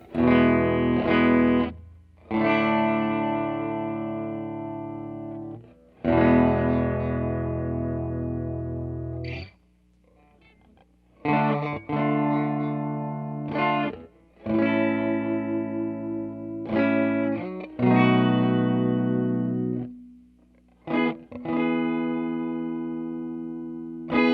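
Telecaster on full volume and full tone into a 2019 Fender Blues Jr FSR Western edition amp, bridge pickup: a series of loud strummed chords, some held several seconds, with short gaps between them, played alone.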